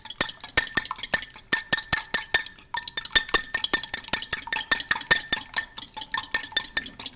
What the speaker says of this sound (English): I'm just going to mix up my egg until the yolk and the white are mixed together